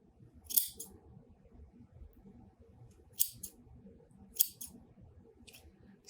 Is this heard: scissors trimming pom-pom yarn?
yes